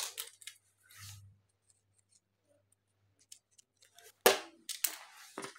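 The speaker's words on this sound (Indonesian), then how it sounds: "Kemudian ini kita gunting." Scissors snip leftover crochet yarn in a few crisp, close cuts with short pauses between, set against near silence and faint handling noises.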